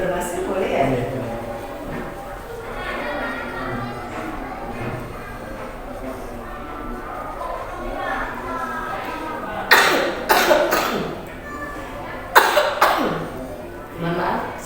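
Two sharp coughs burst out one after another near the end, cutting through a person's steady talking in a room.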